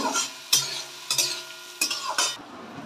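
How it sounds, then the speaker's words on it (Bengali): Vegetables for veg pulao sizzle in a hot pan while a spatula scrapes and stirs them in four or five firm, evenly spaced strokes, close and clear, with no talking. "সবজিগুলো ভাজা হয়ে গেলে"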